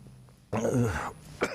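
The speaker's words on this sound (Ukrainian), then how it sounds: "будь ласка, відкашлюйтеся" A single loud cough from an adult close to the microphone, a harsh burst of about half a second followed by a shorter second cough, in an otherwise quiet room with no talking.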